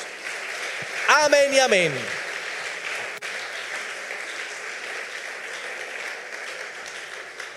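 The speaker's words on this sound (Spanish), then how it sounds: "Dale ese aplauso a Jesús." Congregational applause for Jesus fills a church service, a steady, fairly soft wash of clapping that continues throughout after a preacher's brief spoken line at the start.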